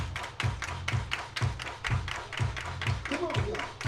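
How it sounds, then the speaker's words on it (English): A crowd at a Guelph Royals versus Barrie Baycats baseball game claps in unison, with evenly spaced rhythmic claps about twice per second over stadium background noise. "Everybody clap your hands."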